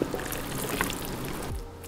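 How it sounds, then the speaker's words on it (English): A mixture of eggs and chicken broth is poured over bread for a Thanksgiving dish. It makes a steady, close splashing pour for about a second and a half, then stops abruptly. "Now we pour this mixture in with our bread."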